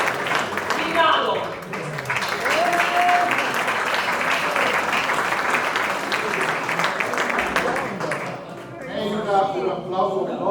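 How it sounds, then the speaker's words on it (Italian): Sustained audience applause fills a theatre performance, dense clapping throughout with crowd noise and a brief whistle, tapering near the end as voices rise. "Merita un applauso doppio."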